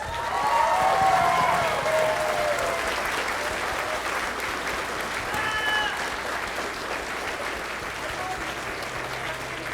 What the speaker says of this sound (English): let's give a round of applause for our representatives